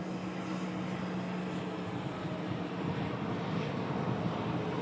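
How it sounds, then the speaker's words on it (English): A TUI Boeing 787 Dreamliner, a heavy jet bound for Melbourne, roars steadily on departure as a loud, continuous broadband rumble with wind buffeting the microphone and no voices. "Next heavy departure, TUI Dreamliner, as I mentioned before."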